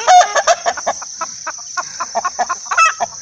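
Agitated chickens cluck rapidly and loudly up close in a brush nest area, with repeated sharp calls and a continuous high whine in the background.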